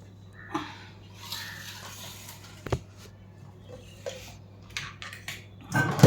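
Chicken for malai tikka is mixed with chopped coriander, green chilli and salt in a bowl, giving sparse soft squishes and occasional utensil clinks against a quiet room.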